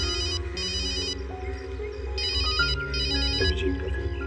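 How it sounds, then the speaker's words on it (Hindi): A telephone rings in repeated electronic bursts over a steady background hum, loud and close, with no voices. "अभिजीत का फोन।"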